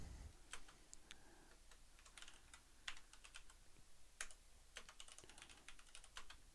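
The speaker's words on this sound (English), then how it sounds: "You can't because I'm typing" Rapid, uneven clicks of typing on a computer keyboard, close and fairly quiet, with bursts of keystrokes scattered through the stretch and no voices.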